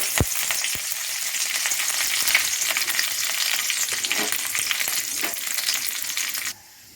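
Mustard seeds, urad dal, dried chillies and curry leaves fry in hot oil for an idli kuruma tempering, giving a loud, steady, close sizzle with scattered crackles that cuts off abruptly near the end.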